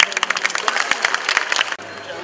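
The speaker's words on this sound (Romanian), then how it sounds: "Să-i primim cu aplauze!" A crowd applauds at an evening interethnic film-week event, with dense clapping and scattered voices for nearly two seconds before the noise cuts off abruptly.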